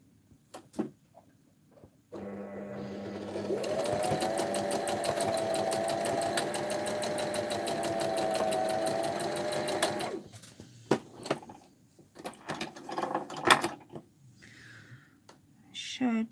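A sewing machine stitches a small cover closed on a dress-form pin cushion, a steady close whirring run of several seconds with rapid needle beats, bracketed by handling noises and light movement.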